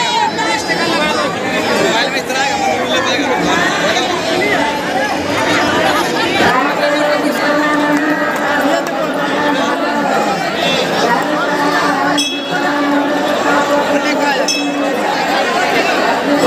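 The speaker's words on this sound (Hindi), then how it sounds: "क्राउड है बहुत ही ज़्यादा, और कांवर लोगों की बहुत ही ज़्यादा भीड़ लगी है भाई जल चढ़ाने वालों की" Dense chatter of a large crowd of pilgrims inside the Baba Baidyanath temple in Deoghar, a steady babble of many voices with occasional clinks and brief calls rising above it, continuous and close throughout.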